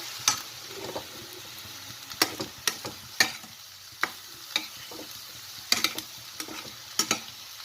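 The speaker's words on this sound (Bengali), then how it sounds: "আমের কাঠটা ঢেলে এভাবে নাড়াচাড়া করে মিশিয়ে দেবো" Rice mixed with mango pulp is stirred in a pan for mango lemon rice, distinct spatula knocks and scrapes recurring every second or so over a low sizzle.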